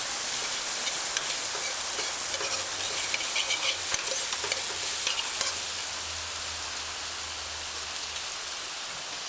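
Soy mince (veggie chunks) frying in a pan for a vegetarian sloppy joe, giving a steady, loud, dense sizzle with soft scraping stirs throughout and no talking.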